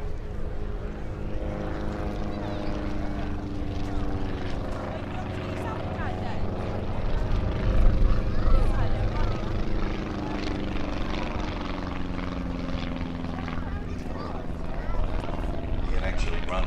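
Propeller aircraft of the Mono display team, VW-engined with 1500cc to 1800cc options, droning steadily at an air festival, a sustained engine tone with people talking over it throughout.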